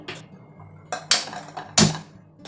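A kadai wok set down on a kitchen stove: a few sharp metallic clanks and knocks, close and distinct, separated by short quiet gaps.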